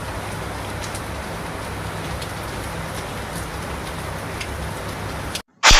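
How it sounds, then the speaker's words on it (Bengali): Heavy rain falls outside in a dense, even hiss of drops on surfaces, heard from nearby for several seconds before a brief gap and a sudden loud burst at the end. "এদিকে বাইরে কতটা জোরে বৃষ্টি হচ্ছে সেটাই আপনাদের সাথে শেয়ার করলাম"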